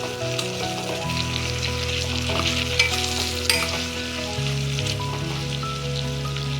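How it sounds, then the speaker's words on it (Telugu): Tomatoes stirred and frying in a pan for vegetable sambar, with a loud, continuous sizzle and a few clinks from the stirring spoon, close up, with music playing underneath. "మగ్గాక ఇప్పుడు టమోటా వేసుకుందాం. బాగా కలుపుకుందాం."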